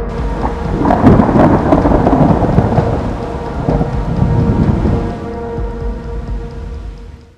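Heavy monsoon rain pours steadily in Pune with thunder rumbling and cracking through it, loud and close, the downpour continuing alone after the thunder fades.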